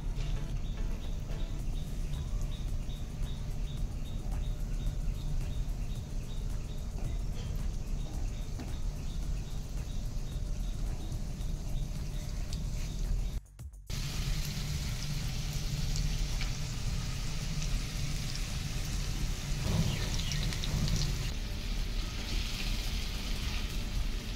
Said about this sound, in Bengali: এবার কড়াতে ঢেঁড়সগুলো দিয়ে দিচ্ছি।